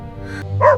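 A dog gives a short, single bark, close and fairly loud, with a faint whimpering tone leading into it.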